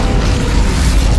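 The Incendio fire spell is cast in Hogwarts Legacy, giving a loud, dense whooshing roar of flame with a deep rumble that holds steady for about a second.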